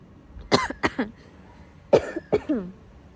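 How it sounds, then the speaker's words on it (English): Two bursts of coughing, each a quick cluster of three or four harsh coughs, close up with a short pause between. "Coughing."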